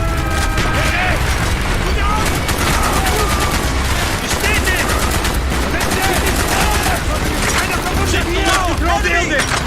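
Heavy gunfire from Call of Duty Black Ops on an Arctic Circle mission rattles in dense automatic bursts and booms throughout, loud and close, while shouted voices and mechanical clatter sound under and between the shots.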